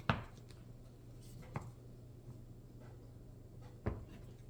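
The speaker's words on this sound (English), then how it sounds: "I'm just gonna continue to cut this up into small cubes" A knife cuts through a block of melt and pour tea tree oil soap, forming cubes: three distinct close thuds spaced a couple of seconds apart over a quiet background hum, with faint handling sounds between.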